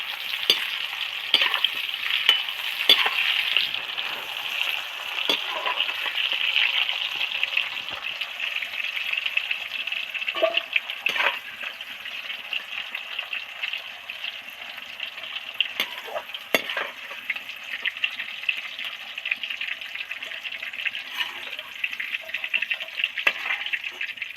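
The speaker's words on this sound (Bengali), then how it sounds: "তো একদম ফাঁকা তেলে ডিপ ফ্রাই করে ভেজে নিয়েছি এবার তেল থেকে থেকে আস্তে আস্তে উঠিয়ে নেবো" Potato pieces deep frying in plenty of hot oil give a steady, close sizzle and bubble throughout, broken by occasional sharper crackles and the clink of a utensil, with no talking.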